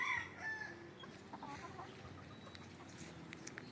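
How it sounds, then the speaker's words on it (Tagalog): Gamefowl chickens on a farm cluck and murmur softly nearby in the late afternoon, with a short crow at the start and scattered bird calls over a quiet outdoor background. "Hindi pa nagpapatuka ng mga manok dyan si Richard."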